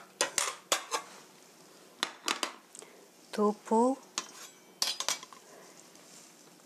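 Several sharp clinks and taps of dishes and utensils as halved tofu is placed on a plate, scattered across the clip, with a person speaking briefly in between.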